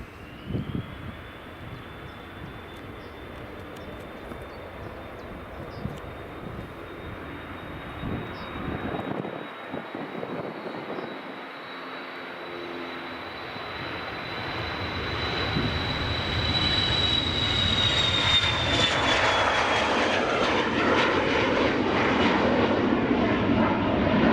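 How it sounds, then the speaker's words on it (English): Ryanair Boeing 737 MAX and EasyJet jet airliners departing Edinburgh Airport, a steady distant engine roar with a thin high whine that swells louder and fuller through the second half as the jets climb out. "Ryanair 737 MAX, and an EasyJet as well. So here comes a couple of nice departures."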